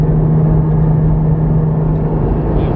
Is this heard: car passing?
yes